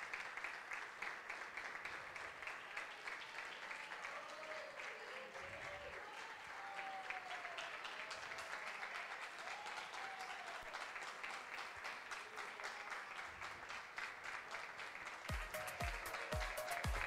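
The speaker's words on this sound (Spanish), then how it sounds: "Un fuerte aplauso para él." Sustained applause from an audience at a live contest show as a contestant, Cristian Naranjo, makes his final walk on stage; steady dense clapping throughout with a few louder close claps near the end.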